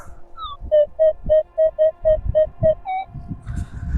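A metal detector sounds a series of about nine short, evenly spaced electronic beeps at a steady pitch, loud and close. Digging for Soviet-era coins, the signal here comes from a 1929 two-kopeck piece, with faint rustling between tones.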